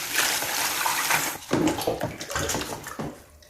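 Water pours and splashes into a basin set up for bottom watering Fittonia and Maranta houseplants, a close, gushing flow that breaks into uneven sloshing bursts and trails off.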